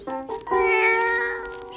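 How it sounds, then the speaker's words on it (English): A storybook pet cat meows close by: two short chirping mews, then one long, rising and falling meow that fades at the end. "Strawberry Shortcake's pet cat, Custard, scampered up the path"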